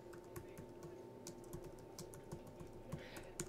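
Quiet, rapid keystrokes on a computer keyboard, a quick irregular patter of soft clicks heard close and alone.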